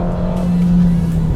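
A Mercedes-AMG A45S four-cylinder engine gives a brief, loud, steady drone as it revs hard through a gear, heard close with no voices.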